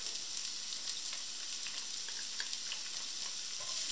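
Chopped onion frying in a pan over low heat, giving a soft, steady crackling sizzle with faint light pops, close and quiet, no talking.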